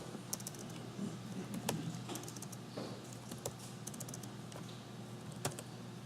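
Fast, uneven clicking of keys on a computer keyboard, heard up close but quietly, with short bursts of sharper taps over faint room noise.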